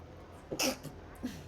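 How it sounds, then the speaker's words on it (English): A single short, stifled sneeze with the mouth closed, a sharp burst followed by a faint breathy catch, alone in a quiet room. "That was my massive sneeze"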